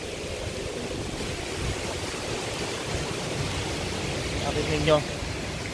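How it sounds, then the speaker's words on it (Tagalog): Hurricane Dorian's strong wind roars steadily down a residential street in 2019, a dense, continuous rush that builds slightly near the end while someone talks over it. "ang lakas ng hangin. It's roaring right now."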